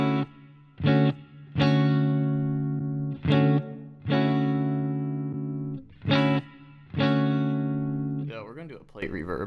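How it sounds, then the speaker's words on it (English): Electric guitar played through a plate reverb effect on a Fender Tone Master Pro in a reggae rig: several sustained chords and notes with long, smooth decaying tails, then a few short muted chops near the end. "I'm gonna have a plate reverb."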